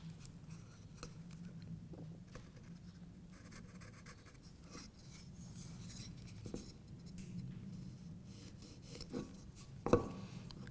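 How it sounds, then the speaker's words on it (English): A pencil scratches faint rasping lines across a wooden table leg, quiet intermittent strokes close by with a small tap near the end, no talking. "my pencil lines I'm going to transfer"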